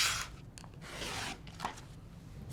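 Quilt fabric is trimmed close by in short scraping, rubbing strokes. The cuts come in uneven bursts with quiet gaps between them and no talking.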